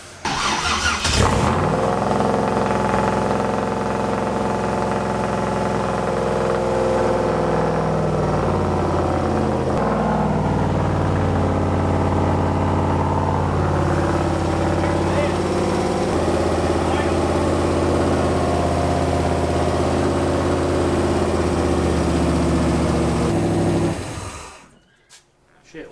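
A Malibu inboard boat engine with a Holley carburetor runs steadily at a cracked-open throttle, a loud continuous mid-pitched drone that holds for about twenty-four seconds before cutting out abruptly near the end.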